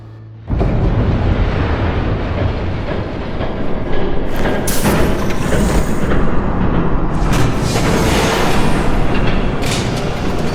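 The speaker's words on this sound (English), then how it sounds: "There's a train coming. Take cover." A train approaches in a Batman: The Animated Series video game, a loud continuous rumble and rattle that starts abruptly and holds steady, with brighter clattering bursts partway through.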